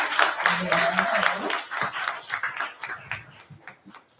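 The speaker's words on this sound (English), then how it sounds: "Round of applause for both Ms." An audience applauds with a round of clapping for a guest at a talk, dense at first and then thinning out and fading over several seconds, with a voice briefly heard near the start.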